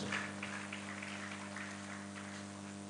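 Audience applause at an award dinner and investiture night, a faint, distant, even patter of many hands over a steady low electrical hum, with no voices.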